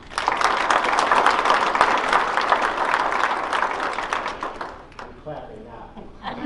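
Audience at a Seward County Community College team meeting claps loudly and steadily for several seconds for an arriving guest, then the applause thins out and fades near the end, with a few scattered claps remaining.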